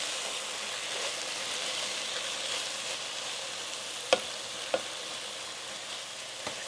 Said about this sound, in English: I like to use my stirrer to push all the mushrooms toward the bottom of the pan